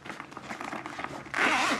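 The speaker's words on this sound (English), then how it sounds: "the slider along its zipper and opening it up" Zipper slider drawn along a UGREEN accessories bag as it is opened, starting as soft scraping and rising to a loud, close, continuous zip in the final half second.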